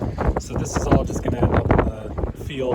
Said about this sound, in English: Pardon the wind, it's gotta be like 40-mile-an-hour gusts.